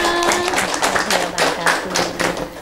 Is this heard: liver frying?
no